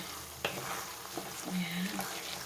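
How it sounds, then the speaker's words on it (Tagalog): Ube biko mixture being stirred in a pan: soft scraping and sizzling bubbling of the thick, cooking rice mixture, steady and close, with a few sharper spoon knocks and no talking. "Medyo matagal-tagal lang ang paghahalo. Hanggang sa lumapot-lapot na siya."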